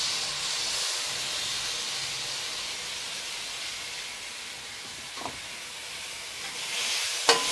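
Tomatoes and coriander leaves sautéing in a pan after ginger and garlic, a soft steady hiss and sizzle with a faint clink near the end, no talking.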